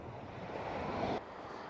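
Ocean surf washing around a pier at the seaside, a steady broadband rush that swells slightly and then drops off, mixed with wind noise and no voices.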